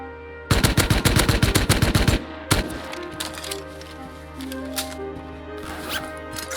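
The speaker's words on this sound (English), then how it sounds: "gunshots at Missile Silo took me off my course for a moment" Rapid automatic gunfire at the Missile Silo in the video game Rust, a dense burst of shots lasting about two seconds, then scattered single cracks and thuds with lingering echo.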